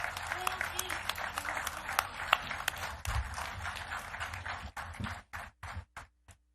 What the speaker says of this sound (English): Give him a loud applause.